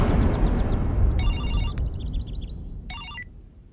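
An electronic telephone rings twice in a Bhojpuri action film scene. The bursts are short and bright over a loud rumbling background, with chirpy tones between the rings and no speech.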